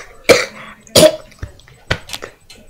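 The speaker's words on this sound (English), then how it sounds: "I'm still coughing now." Several sharp coughs, two loud bursts followed by a few softer ones, close by with no talking.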